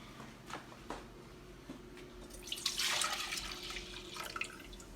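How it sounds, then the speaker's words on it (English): Milk pours into a cooking pot as a short, soft splashing stream that rises after a few quiet taps and fades out by the end. "so right now we're gonna add the milk to the pot"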